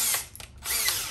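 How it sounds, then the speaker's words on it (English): Power drill boring into a prefab particleboard cabinet panel, a brief close whine that dips midway and then picks up again. "then we're gonna drill from here over to about right there"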